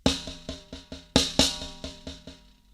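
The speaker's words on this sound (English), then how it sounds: "It's actually the 6-stroke roll." About a dozen crisp drum strokes in an even pattern, an accented six-stroke roll, with two clearly louder accented hits in the middle, ringing briefly and fading at the end.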